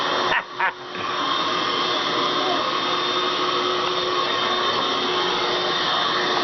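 A child runs a vacuum cleaner with a steady, loud, continuous whirring drone that dips briefly near the start, while adult voices cheer faintly in the background.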